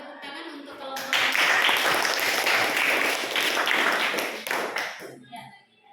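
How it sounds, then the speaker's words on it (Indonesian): An audience claps for a presentation group in a classroom, a dense burst of applause starting after a second, holding steady, then thinning out, with faint voices before and at the end. "Kita beri tepuk tangan untuk kelompok yang"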